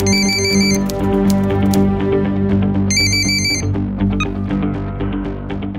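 A telephone rings with a repeating electronic ringtone, a bright melodic tone pattern over a low musical bed, loud and close, with no talking.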